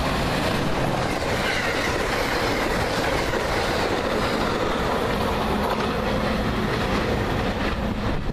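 An Amtrak AEM7 electric locomotive and its train roll past close by, a loud continuous rumble with rail clatter and wheel noise sustained throughout, no voices.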